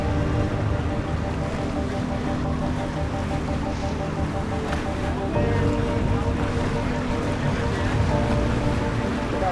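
Sailboats racing into a mooring field during a Wednesday night yacht club race, with steady wind noise, water rush and lapping waves against the hull filling the whole span at a constant, close level.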